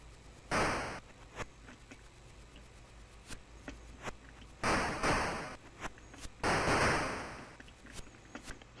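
Fireworks exploding in an MSX video game, three or four bursts of hissy static-like noise separated by quieter stretches and small ticks.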